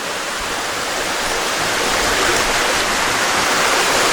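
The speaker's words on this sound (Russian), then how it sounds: "А, не, вон наш водопад." A waterfall in the Philippine mountains roars as a dense, even rush of falling water, loud and continuous with no break.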